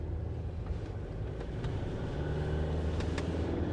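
A used Toyota Fortuner cruising on the road produces a constant low tyre roar and road rumble heard from inside the cabin, steady and moderately quiet throughout.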